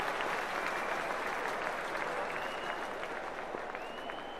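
Steady applause and cheering from a large crowd at a T20 cricket match as play begins, continuous and fairly distant, with no talking.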